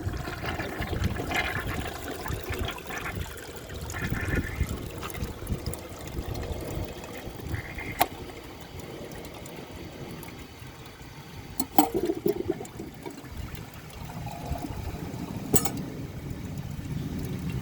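A 1957 Kilgore Atlas toilet flushes a washcloth and grocery bag, with a long rushing, gurgling swirl of water, sporadic clunks and trickles as the bowl struggles to clear, and no talking.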